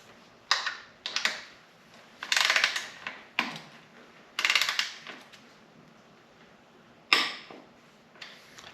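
A torque wrench tightens a frame bolt on a Kawasaki ZX-10R, giving a series of short ratcheting clicks in bursts with quiet gaps between, close and crisp.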